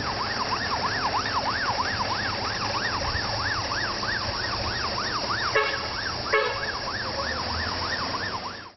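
An ambulance siren wails in a steady rising-and-falling cycle at a road accident scene where a motorcyclist was hit, with police patrol cars also on site, loud and continuous alongside brief horn-like bursts and traffic noise.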